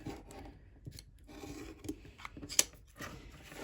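Scissors snipping through paper-covered chipboard corners for a mini folio album, close-up crisp cuts and soft rasping scrapes with a sharper snip near the end, no talking.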